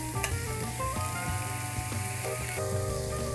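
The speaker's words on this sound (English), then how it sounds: "Grill the steaks over medium-high heat for about 5 minutes per side for medium-rare." Strip loin steaks sizzle on a grill over medium-high heat, a steady, dense crackle that runs unbroken for the whole stretch.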